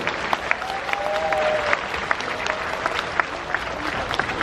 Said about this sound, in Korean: 안드리아마하고 박수 한번 크게 주시고 부탁드릴게